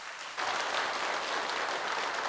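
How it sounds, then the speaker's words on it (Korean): A church congregation applauding during a Sunday service: broad, even clapping from many people starts suddenly after a short quiet moment and holds steady and loud to the end. "인사할 때 큰 박수 해주시기 바랍니다"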